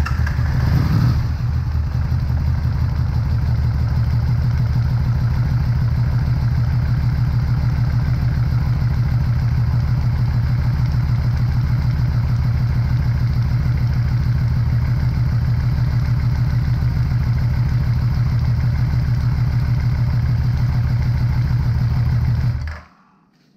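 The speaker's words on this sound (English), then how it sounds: "So let me start it up and I'll show you what happens." Yamaha VMAX motorcycle engine starts with a brief crank and settles into a steady, loud idle with a regular pulsing rumble and light mechanical clatter, close by and alone until it is switched off at the end.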